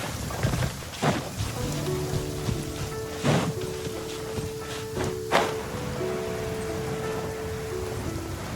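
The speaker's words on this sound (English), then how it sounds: "I don't like the rain." Steady rain hisses and patters in the Genshin Impact video game, heard as continuous broad noise with a few louder splashy bursts and soft low tones drifting underneath, with no talking.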